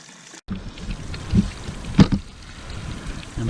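Water runs through the cooling system of a Honda CBR250R during a flush, a low, steady outdoor splashing and gurgling with a couple of soft knocks, close and moderately loud.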